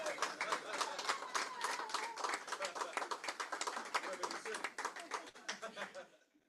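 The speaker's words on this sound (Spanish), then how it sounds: "Por favor, aplausos." Audience applause at the inauguration of a new research and teaching center, CID Santiago de Chile, at a psychoanalytic event; dense, steady clapping from many hands fills about six seconds, then fades out at the end.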